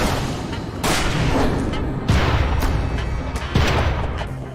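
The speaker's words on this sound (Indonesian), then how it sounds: "membuat onar dan menembak Carlos dan juga Ray." Three loud, booming gunshots ring out in a dramatic movie shootout, each a heavy blast with a long echoing tail over a dense soundtrack.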